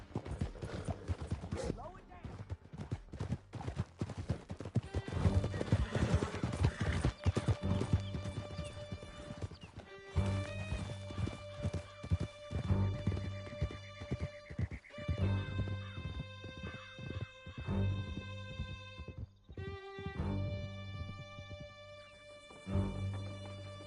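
Horses gallop hard with a dense, continuous clatter of hooves, loud and close, while neighs and whinnies rise over the pounding along with a swelling musical score and some shouting voices.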